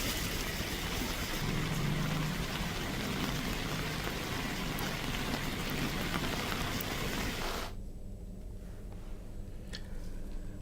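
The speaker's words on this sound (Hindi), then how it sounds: "यहाँ पर झमाझम बारिश से नदी नाले उफान पर आ गए हैं।" Heavy monsoon rain pours down in Kondagaon, a loud, steady, dense hiss that suddenly drops to a softer, thinner patter near the end, with no voices.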